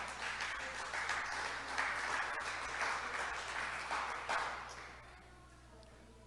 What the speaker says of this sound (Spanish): ¿Cuánto le damos un aplauso a Dios?